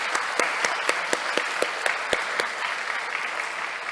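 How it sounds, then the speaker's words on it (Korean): A church congregation at an evening revival service applauds, with scattered, distinct claps sounding over a soft steady patter. The applause is moderately distant and fairly quiet. "뜨겁게 박수 한 번 더 이렇게 드리도록"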